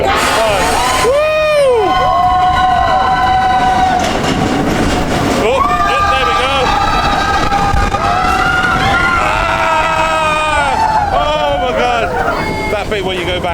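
Roller coaster at Disney's Animal Kingdom racing backwards through the inside of a mountain, a loud continuous rumble of the train with riders screaming and cheering over it throughout.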